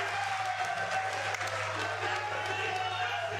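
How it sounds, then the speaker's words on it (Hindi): Crowd at a political nomination rally applauding to welcome a chief minister, a steady, moderately distant wash of clapping under a constant hum, with talk over it. "एक ऐसे नौजवान मुख्यमंत्री का तालियां बजाकर स्वागत किया जाना चाहिए"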